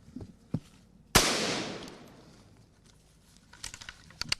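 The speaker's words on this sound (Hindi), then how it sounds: "ये देखिए इस तरह से लगातार यहाँ पर गोलियां चल रही है।" Gunfire in a forest battle: one sharp, loud shot rings out and echoes away slowly through the trees, with a few fainter, more distant pops before and after.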